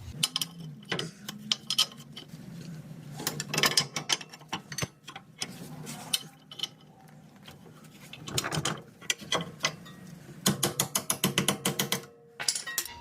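A ratchet tightens nuts and bolts while a rear shock absorber is installed on a Dodge Journey, giving close, loud bursts of rapid clicking pawl strokes separated by short pauses.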